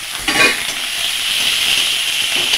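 Green chili, onion and garlic sizzle in hot oil in a pan while cooking bitter greens, a steady close hiss with a brief crackle burst when the ingredients hit the oil.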